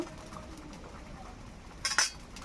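A pot of rohu fish curry with potato and eggplant is stirred, giving a couple of quick metallic clinks close by over a quiet kitchen background.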